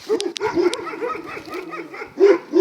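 Dasha, a small puppy, giving a few short yips and squeaky barks close by, scattered irregularly with a louder yelp at the end and faint background voices.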